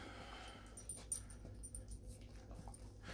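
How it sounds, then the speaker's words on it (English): Dogs panting and whimpering faintly indoors, with soft breathy snuffles and a brief louder yelp, low-level and close by, with no talking. "I'm going to go grab my dogs and get them out of here."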